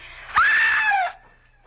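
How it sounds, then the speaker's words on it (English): A single sustained scream from a woman in an old-time radio drama, loud and close, rising sharply and then trailing off after about a second. "Please, if you've ever done anything for me in your life, scream."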